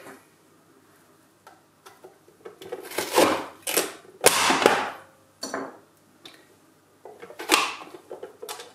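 Onion grated on a fine grater for a salad, loud scraping strokes arriving in uneven bursts separated by short pauses, close by with some knocking of the grater.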